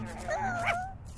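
Puppies in the Minecraft: Story Mode video game give a short, high whimper and yip, brief and fairly close, with talking overlapping the cries.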